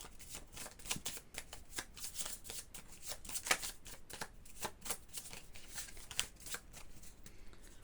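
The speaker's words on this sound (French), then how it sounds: "Donc je ne vais prendre qu'une seule carte." Tarot cards are handled, shuffled and drawn by hand, making a steady run of soft, close riffling flutters and card snaps at a quiet level, with no one talking.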